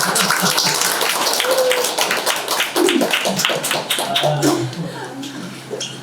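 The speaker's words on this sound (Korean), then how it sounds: "다시 한번 큰 박수 부탁드리겠습니다." A room full of people clapping steadily, dense and fairly loud, with a few voices mixed in under the applause.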